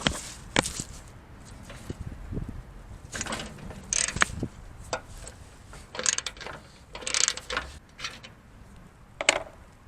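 Small socket wrench ratcheting on 13mm bolts of a Poulan mower spindle and pulley assembly, several separate bursts of close, crisp clicking with short pauses between, alone without talk.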